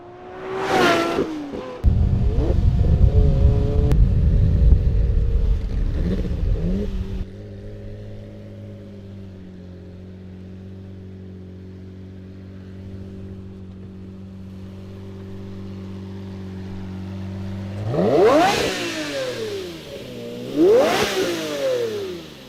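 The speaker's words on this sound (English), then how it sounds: "you cannot beat that Lamborghini naturally aspirated V12" A Lamborghini Murcielago Roadster's naturally aspirated V12 barks and revs hard, then settles into a steady, fairly quiet idle hum before two more sharp rising revs near the end.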